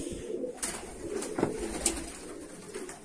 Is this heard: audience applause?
no